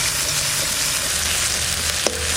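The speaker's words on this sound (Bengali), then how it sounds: "পেঁয়াজের সঙ্গে আদা আর রসুন বাটাটা দিয়ে দেবো।" Onion with ginger and garlic paste frying in a pan while a stingray curry is cooked, giving a steady, close sizzle throughout with one brief clink near the end.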